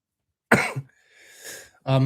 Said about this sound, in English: let's sort that coughing out